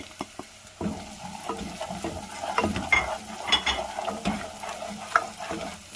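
Masala with black pepper, salt and ground garam masala frying in a pan for white egg korma, a constant sizzle broken by repeated scraping strokes of stirring, close and fairly loud, with no speech.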